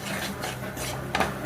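Spices being stirred into a pan of sliced vegetables for a Maharashtrian patoli bhaji, a steady close scraping and rubbing of a spoon against the pan with one brief clatter near the end.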